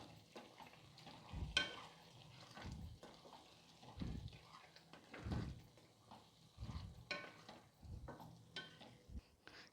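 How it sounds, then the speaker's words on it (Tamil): Cooked dal poured into a pan of wilted spinach and stirred for South Indian keerai kootu, giving soft wet scraping and spoon clinks at an uneven rhythm, close and fairly quiet with no talking. "பருப்பை ஊற்றி நல்லா அப்படியே கலக்கி விடலாம்."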